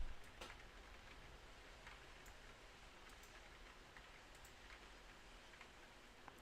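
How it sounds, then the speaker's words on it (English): Steady rain falling on a roof, heard from directly underneath, as a soft continuous patter with faint scattered drips and ticks and no talking. "Why it sounds like it's raining? Because it's raining."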